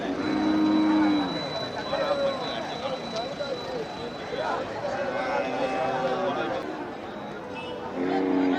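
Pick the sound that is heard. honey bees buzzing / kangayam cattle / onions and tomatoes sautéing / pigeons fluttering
kangayam cattle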